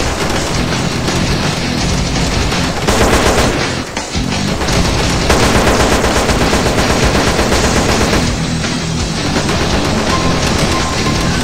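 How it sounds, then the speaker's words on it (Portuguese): Dense, continuous gunfire as a crowd of characters all shoot at once during a giant monster boss battle in a Grand Theft Auto San Andreas mission mod, loud and sustained with rapid automatic bursts and booms, music underneath. "O problema é que todo mundo atirando ao mesmo tempo, né?"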